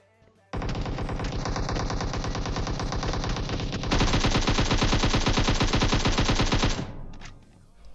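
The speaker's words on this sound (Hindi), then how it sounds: "सारे की सारी गोली दीवारों पे पेल देता है ये" Automatic weapon fire in the mobile battle-royale game PUBG Mobile, two long rapid bursts of dense, evenly spaced shots, loud and close, the second burst sharper, then a brief fading tail.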